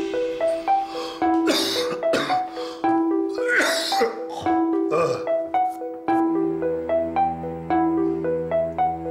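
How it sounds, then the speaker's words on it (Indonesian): A man in an Indonesian TV drama coughs in several harsh bursts over a melodic music bed, his fits spaced across the scene and growing heavier. "kok batuknya jadi tambah parah sih?"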